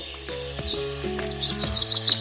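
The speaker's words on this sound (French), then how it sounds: "ils aperçurent sur une branche un bel oiseau blanc comme neige, qui chantait si joliment qu'ils s'arrêtèrent pour l'écouter." A snow-white bird singing on a branch in a forest, bright rapid chirps and tweets repeating loudly and close over a soft musical backdrop.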